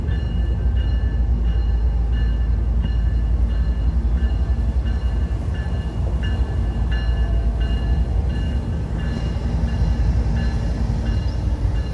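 A train rolls past close by at Seattle's Pier 66 cruise terminal, a loud steady rumble with a rhythmic clacking of wheels over rail joints throughout.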